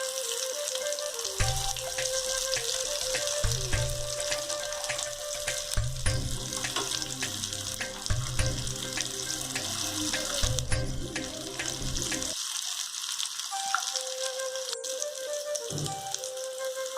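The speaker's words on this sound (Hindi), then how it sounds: "आप देख रहे हैं कितने अच्छे से हमारे कबाब फ्राई हो रहे हैं।" Soya chunk kababs frying in oil in a pan, a steady close sizzle with crackling, broken by short bursts of low clattering and a brief thump near the end.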